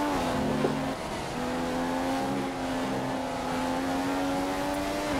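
A Formula 1 race car in the F1 2015 video game, in qualifying at the Spanish circuit, holds a steady, loud engine drone with slight pitch shifts, continuous and close.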